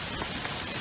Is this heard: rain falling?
yes